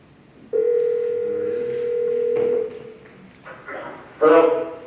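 During a county commissioners' meeting, a telephone dial tone hums steadily for about two seconds, then a few keypad tones are dialed, with room noise and speech around them.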